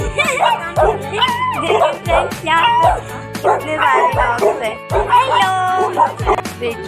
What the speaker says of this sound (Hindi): इतने सारे डॉग्स हैं